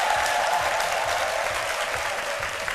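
A studio audience on a TV talk show applauds guest Isabelle Moreno, a beauty salon manager and fashion show promoter, with steady, dense clapping that fills the room and holds at an even level without a break.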